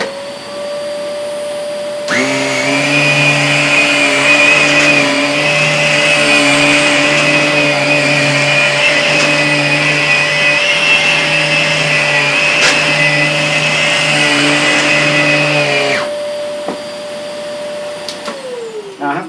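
A Vax Air Silence C86-AW-PHE bagless vacuum cleaner with its power head switched on gives a loud, steady motor whine and airflow roar. It runs for about fourteen seconds, then shuts off and winds down.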